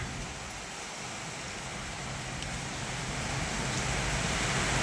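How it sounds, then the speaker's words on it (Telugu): Dense, steady hiss of heavy rain pouring down, an unbroken wash of noise that swells slightly louder toward the end. "అంత పెద్ద వాన."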